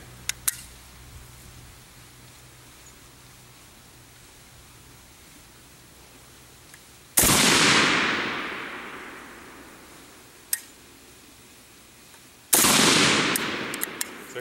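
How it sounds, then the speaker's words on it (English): AK-74 rifle chambered in 5.45x39 fired at a target 25 meters downrange on a range: two loud, sharp single shots several seconds apart, each with a long rolling echo that fades out, plus a couple of faint distant pops. "So we're going to go ahead and put a couple shots here on the target, which is set up 25 meters down range."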